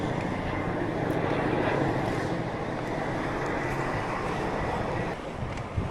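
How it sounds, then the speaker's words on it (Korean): A helicopter passes overhead on a windy coastal road in Jeju during a cycling trip, its rotor rumble steady and broad beneath loud, continuous wind buffeting the microphone. "헬기가 다니네요."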